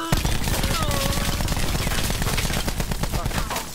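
Rapid automatic gunfire in Call of Duty: Black Ops 4, a dense continuous stream of close, loud shots running the whole stretch, with game effects layered underneath.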